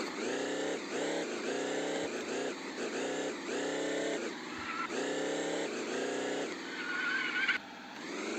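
A newly bought car's engine revs repeatedly, rising and falling in a steady series of pulls close by, with no speech over it.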